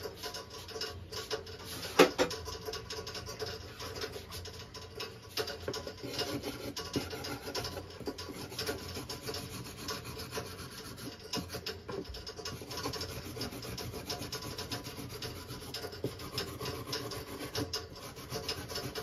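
A hand file rasps back and forth on a small piece of aluminum, giving continuous close scraping strokes at a fairly even pace, quiet and with no voices.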